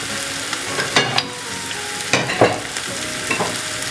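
Onions being sautéed with chilli powder in a pan for a Punjabi chicken masala give a steady sizzle, broken by several sharper scraping stirs of a spoon against the pan. Close and moderately loud, with no talking.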